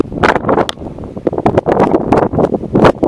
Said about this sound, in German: jetzt wird es schon wieder windig